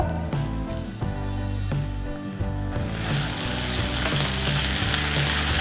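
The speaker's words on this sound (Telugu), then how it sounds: "కొంచెం ఉప్పు వేసి మన ఈ ఉల్లిపాయలు కొంచెం రంగు వచ్చేంత వరకు ఫ్రై చేసుకోండి" Onions frying in a pan with salt, a steady sizzle that swells louder and brighter partway through, under background music.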